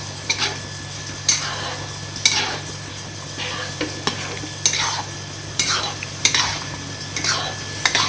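Semolina stirred in a kadhai with a utensil, scraping strokes repeating every second or so over a faint sizzle and a steady low hum, close and alone without talk.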